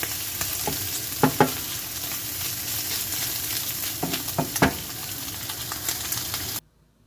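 Meat fries in a pan with a continuous sizzle, broken by several sharp clatters and scrapes as the pieces are flipped, then the sound cuts off abruptly.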